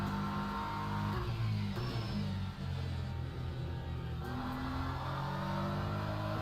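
Onboard BMW M4 race car engine during a race, a steady loud mid-pitched drone with revving rises and gear shifts, heard alone throughout.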